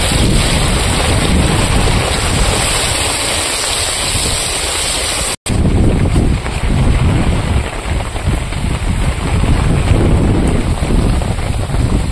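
Heavy rain pours down in a loud, dense and continuous hiss, with deep rumbles of a thunderstorm and wind noise throughout and a brief dropout near the middle.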